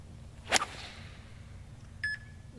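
A golf drive swung with a driver on a course: one sharp whoosh and crisp impact, followed a moment later by a short faint tonal beep, in otherwise quiet outdoor air.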